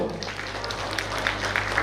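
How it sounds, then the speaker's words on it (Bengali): A crowd at a Dum Dum show applauds the designer, giving a steady wash of clapping from an audience with a low hum beneath and voices faintly mixed in. "আমাদের ডিজাইনারের জন্য একটা জোরে হাততালি হোক"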